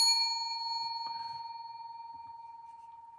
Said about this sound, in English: I'll ring the bell to that.